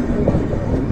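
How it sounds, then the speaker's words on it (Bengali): A train passes on an Indian railway line near Tatanagar while the observer's train stands waiting, giving a loud, close rumble and rattle of rolling wagons. "কি একটা ট্রেন যাচ্ছে জানি না,"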